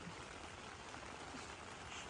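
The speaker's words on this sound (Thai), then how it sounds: "ฝนตกได้ยินเสียงฝนไหมคะเพื่อน" Rain falls on a tent at a campsite, a dense, even patter that stays constant and close for the whole short stretch.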